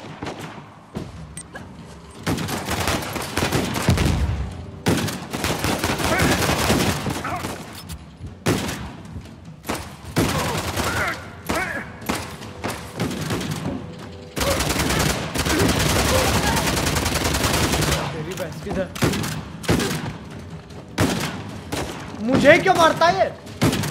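Dense gunfire crackles through combat in the video game Uncharted: The Lost Legacy, with rapid bursts of shots and thuds coming in repeated loud volleys while a player speaks over the action.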